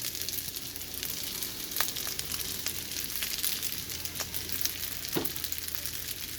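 Cooked shrimp sauté in a hot pan for Chinese restaurant-style shrimp fried rice, giving a steady dense sizzle with occasional sharp spatula scrapes and stirring clicks throughout, no talking.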